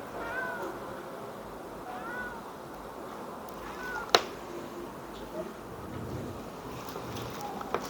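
A cat meows several times, fairly faint and spaced a couple of seconds apart, against a low room hiss during a classroom lesson, with one sharp click partway through.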